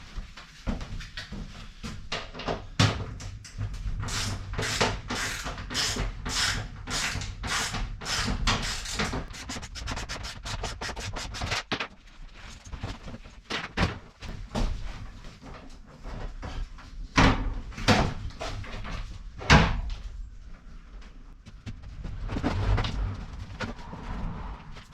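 A van bulkhead is worked loose and slid out, with a burst of rapid ratcheting or rattling clicks, then scattered metallic clunks and scrapes. Hits are close and uneven, with no talking.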